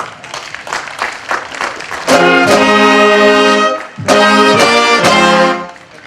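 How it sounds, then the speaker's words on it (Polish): A crowd claps for about two seconds, then loud sustained musical tones take over, with a brief pause in between. "Wielkie, wielkie brawa!"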